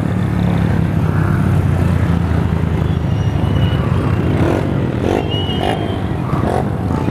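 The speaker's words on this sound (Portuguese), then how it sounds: "Olha o tanto de moto que tinha no bagulho." Motorcycles pass along a street in Londrina as a continuous, rough roar of engines and rushing noise that swells and fades slightly, with no speech heard.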